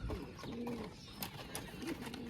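A pigeon kept in a home setup coos in two or three soft low calls, near but quiet, amid faint rustling and clicks.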